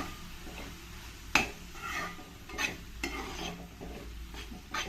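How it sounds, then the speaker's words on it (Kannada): Fenugreek leaves fry in a little oil for fenugreek pulao, with a soft sizzle beneath repeated scraping stirs of a spoon against the pan at irregular intervals. "ಒಂದು ಎರಡು ನಿಮಿಷ ಇದನ್ನು ಸ್ವಲ್ಪ ಎಣ್ಣೆಲಿ ಚೆನ್ನಾಗಿ ಫ್ರೈ ಮಾಡ್ಕೊಳ್ತೀನಿ"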